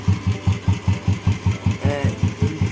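A Royal Enfield Bullet motorcycle engine thumps in a steady, evenly spaced single-cylinder beat at low revs, close and loud, with a brief mechanical whine partway through and no voices.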